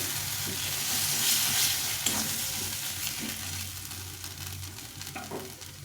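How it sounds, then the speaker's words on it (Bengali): Steady sizzling of fish frying in hot oil, continuous and close, with occasional soft clinks and stirring sounds. "ভাজতে ভাজতে তেলটা ছেড়ে দেবো একটু ভাজা হয়ে গেছে"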